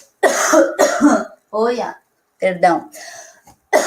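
A person coughs and clears their throat several times in close, separate bursts, with brief speech between.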